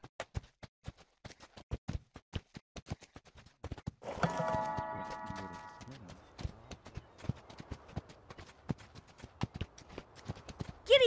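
Hooves of the horse Spirit clip-clop in a steady galloping rhythm in a Nintendo Switch game, crisp and close throughout, with a short burst of tonal game sound in the middle.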